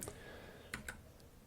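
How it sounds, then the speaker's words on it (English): A computer keyboard's tab key is pressed a few times, giving three soft, separate clicks in a quiet room with no talking. "And let's start pressing tab."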